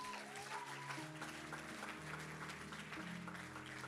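Church congregation applauding during a worship service, a dense wash of clapping running steadily throughout, with sustained musical tones underneath.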